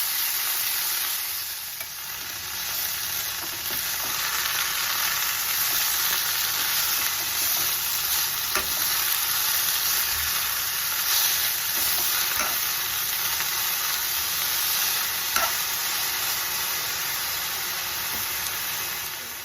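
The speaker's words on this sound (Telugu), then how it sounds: "పచ్చివాసన పోయేంత వరకు వేపుకోవాలి." Curry leaves fry in hot oil in a pan for a homemade kothimeera pachadi, giving a steady close hiss and sizzle throughout with faint stirring scrapes now and then.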